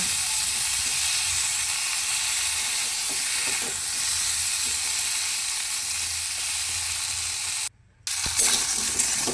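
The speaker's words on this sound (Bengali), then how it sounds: "ওই তেলের মধ্যেই আলুগুলোকে এবার দিয়ে দেবো। নাড়াচাড়া করে কিছুক্ষণ ভেজে নেব।" Potatoes frying in oil while being stirred, a steady loud hiss and sizzle with faint scraping, broken by a brief drop near the end before resuming, with no voices.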